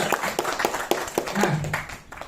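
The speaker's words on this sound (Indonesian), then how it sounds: "Boleh tepuk tangan untuk True Life Empire." An audience at a company presentation claps, a quick scattered patter of hands that rises briefly and fades over about two seconds, with a faint voice underneath.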